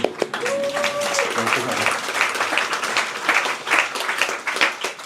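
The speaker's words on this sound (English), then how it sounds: "Give him a big round of applause." A crowd claps and applauds continuously, fairly loud, with a brief whistle or cheer near the start.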